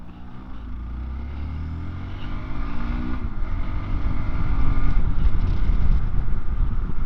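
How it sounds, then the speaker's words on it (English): A Hero XPulse 200 motorcycle pulls away on the road, its engine note climbing in pitch in stepped rises as it shifts up through the gears, under steady wind buffeting that grows louder as speed builds. "decent gear change up through the gears"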